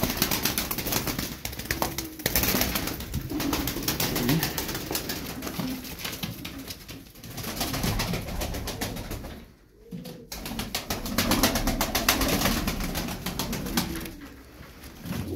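Pigeons coo continuously up close, low throaty calls overlapping with rustling and occasional wing flutters, with no talking.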